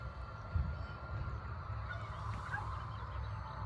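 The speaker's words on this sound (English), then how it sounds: "And here's the neighbor's turkeys." Faint honking calls of turkeys on a homestead, a few brief cries over a steady low rumble of outdoor background noise.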